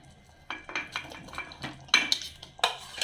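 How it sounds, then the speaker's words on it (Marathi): Potato pieces tipped into a pan of fried spices for potato bhaji, a series of clattering thuds and scraping stirs against the metal pan, close and irregular, with no speech. "हा बटाटा घालायचा आहे."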